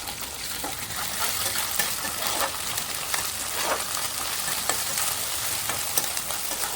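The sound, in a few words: stirring ginger garlic paste into frying onions and green chillies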